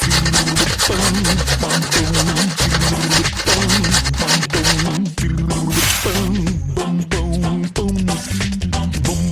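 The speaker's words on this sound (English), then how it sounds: "We need to grate this." Rapid rasping strokes of an ingredient being grated in a Masha and the Bear pizzeria cooking game, loud, steady and continuous, with game music underneath.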